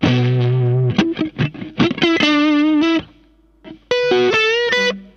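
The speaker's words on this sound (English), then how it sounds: "Booster to increase the level of an instrument going to an amplifier in order to add harmonics and increase the overall saturation" Electric guitar played through an IK Multimedia X-Drive booster pedal, raising the level of the instrument into an amplifier, giving clean sustained chords and short plucked notes that stop and restart, loud and close with no voices.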